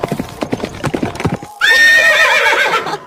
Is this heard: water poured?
no